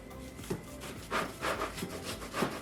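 Rhythmic back-and-forth sawing of a sharp chef knife through a large watermelon, several scraping strokes close up, moderately quiet with no talking.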